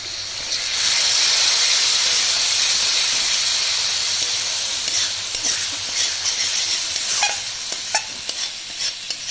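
Spice paste for a shol fish curry sizzles and hisses steadily in hot oil in a pan, a loud continuous fry with scattered crackles and a few stirring scrapes toward the end, no one speaking.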